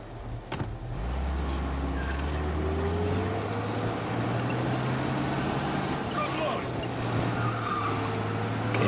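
A car engine in the Mafia video game, starting with a thump and then a steady low rumble that drones on, with faint squeaks and rattles layered over the hum.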